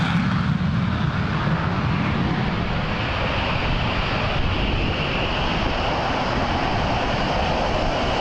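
A Lockheed Martin Boeing F-22 Raptor, a twin-engine supersonic stealth fighter, roars with a steady, loud, broadband jet rumble that holds unbroken throughout, with no voices present.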